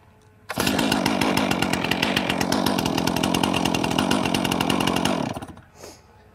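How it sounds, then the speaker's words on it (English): A chainsaw started from the ground kicks into a loud, close idle, its rapid buzzing engine rattle holding steady for nearly five seconds before winding down and stopping. "What you've seen today is how to properly start a chainsaw."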